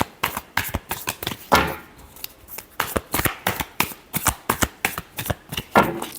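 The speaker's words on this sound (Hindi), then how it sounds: "Last shuffle." Tarot cards are shuffled by hand in a quick, rhythmic series of crisp riffling slaps and flutters, close up and alone.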